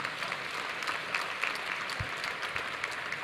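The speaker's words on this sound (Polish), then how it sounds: "Wielkie brawo dla wszystkich dzieci." An audience in a church gathering claps for the children, steady, full applause with scattered louder claps and a few thumps, sustained for several seconds without speech.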